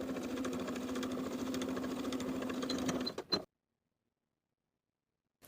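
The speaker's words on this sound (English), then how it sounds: "Sew this seam with a 3/8 inch seam allowance and press to one side" A sewing machine stitches a seam at 3/8 inch allowance with a close, steady mechanical whir for about three seconds, then stops abruptly into silence.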